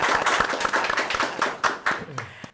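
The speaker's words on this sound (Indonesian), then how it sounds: "Tepuk tangan." Applause breaks out in a Sundanese podcast studio: a small group claps in a brisk, uneven rhythm, close and clear, fading out by the end, with talk mixed in.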